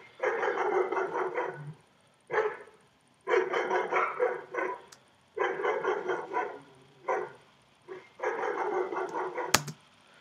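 Dogs bark in repeated clustered volleys, four or five bursts with brief quiet gaps between them, close and steady in loudness, with one sharp click near the end and no speech.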